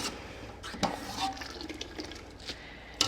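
Water from cooked pasta drains away in a kitchen while the pasta is lifted out, with a quiet, steady trickle and a few soft clunks and splashes at close range.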